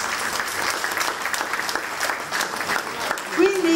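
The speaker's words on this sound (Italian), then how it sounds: "un grande applauso anche per loro" Applause from an audience at an art prize ceremony, a dense steady patter of many hands clapping throughout, moderately loud, with a brief tonal sound near the end.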